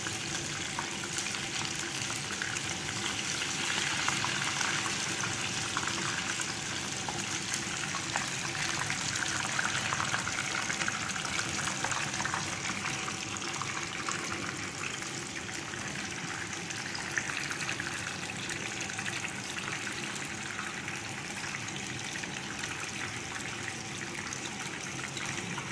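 Battered fish pieces for fish Orly fry in hot oil, giving a dense, steady crackling hiss that runs unbroken and fairly loud throughout, with no talking.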